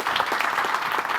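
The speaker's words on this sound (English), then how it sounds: "Let's give Louis a round of applause" Audience applause following an introduction of a speaker, a dense steady clapping from a crowd that holds at an even level for the whole moment with no voices over it.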